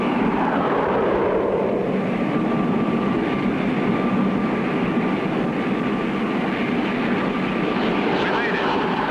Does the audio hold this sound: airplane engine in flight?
yes